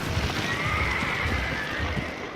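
Wild horses on open range neigh in a long whinny over a dense, noisy background, with faint hoof clatter underneath.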